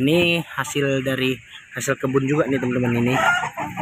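A mother hen and three chicks kept in a borrowed coop cluck, and a rooster crows, while someone talks over them throughout.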